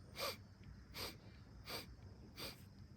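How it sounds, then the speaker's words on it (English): Four evenly spaced sharp sniffs through the nose, close and breathy, each a short hissing intake with quiet pauses between. "Sniff breath. 4 sniffs, 1 for each syllable."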